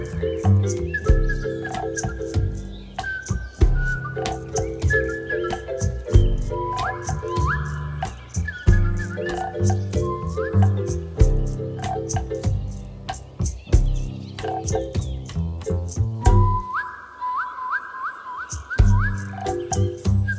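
A group plays bird-whistle toys over an ongoing samba groove, with repeated bright warbling whistle trills rising above dense drums and percussion throughout.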